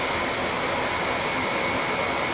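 An Embraer KC390 military transport aircraft flying a display at the Paris Air Show, a loud, steady broadband engine roar that holds evenly throughout.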